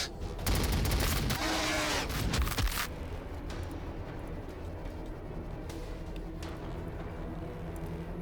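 Bursts of plasma weapon fire in a Warhammer 40,000 battle game, a dense loud volley of blasts in the first few seconds, then a steadier rumble of combat with scattered sharp shots.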